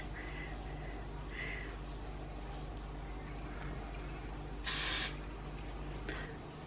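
Hairspray hissing from a can onto fine hair, one short bright burst near the end over faint steady room hum.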